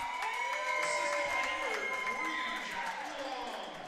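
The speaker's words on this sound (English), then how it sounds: "As you can hear the crowd here." Crowd at a coed junior A lacrosse championship final, Sackville Wolves against Saint John Rapids, a steady murmur and cheering filling an indoor arena under a commentator's running talk.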